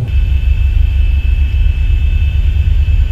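A steady, loud rumble of a Boeing 737-800's jet engines idling in the X-Plane 11 flight simulator, with deep low drone and a thin constant whine above it, no voices.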